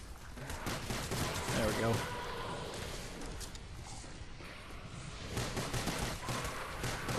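Pistol fire rings out in Call of Duty Zombies, a run of sharp shots in irregular bursts over dense game noise, with a player's voice briefly speaking.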